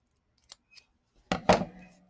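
Scissors trim the ends of a narrow strip of tape: two faint, light clicks, then a louder crisp snip-and-slide cut nearby, in an otherwise quiet room.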